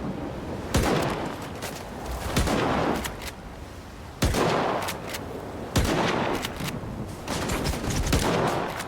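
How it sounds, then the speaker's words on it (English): Gunfire in the shooter game S.T.A.L.K.E.R. 2, a string of loud, sharp shots in irregular bursts with echoing tails, close and dominant throughout without talk. "I'm gonna try shooting these guys"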